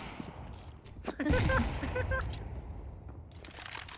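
Gunfire in a tactical shooter video game bursts out in a rapid volley of cracks after a quieter opening, followed by a few scattered shots and clicks over a continuous background hiss.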